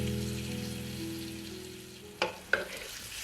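A pineapple chicken stir-fry sizzles softly in a hot pan, then two quick tossing clatters ring out near the end of the faint, short stretch.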